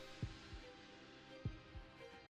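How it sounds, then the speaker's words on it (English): Heartbeat sound effect in the One Piece anime: two paired low thumps, each lub-dub pair about 1.2 seconds apart, over a steady faint background hum. "Getting that heartbeat."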